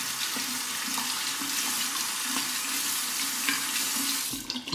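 A tap runs steadily as a shaving brush is rinsed beneath it, with continuous close splashing and gurgling water and small changes as the brush moves through the stream.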